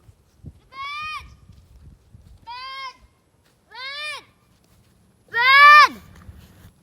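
Goats bleat four times in succession, wavering nasal calls with short gaps between, the last one loudest and closest, over faint background noise.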